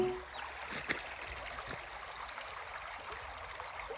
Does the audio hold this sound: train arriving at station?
no